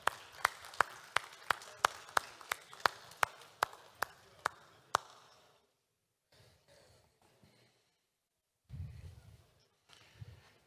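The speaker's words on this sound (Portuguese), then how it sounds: "Uma salva de palmas" At a tourism and events panel in Brazil, about a dozen sharp, evenly spaced claps ring out fairly close, then stop, leaving near silence with faint low rustles and murmurs.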